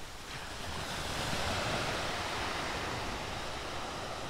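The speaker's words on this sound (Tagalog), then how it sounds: "Check natin yung dagat." Sea waves wash steadily onto the beach at Jomalig Island, a continuous broad roar of surf with some wind noise, loud and close, with no talking.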